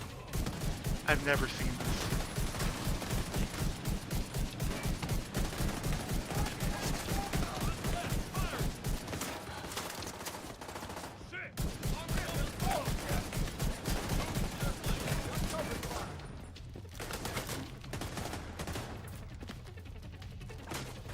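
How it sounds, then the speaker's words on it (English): Rapid bursts of automatic machine gun fire in the shooter game Division 2, loud and sustained with brief pauses between volleys, while a voice talks over the shooting. "He pulled out a machine gun!"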